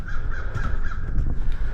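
A crow caws repeatedly outdoors near a workshop where a satin black spray-painted part is being finished, the calls fairly loud and close over steady background noise.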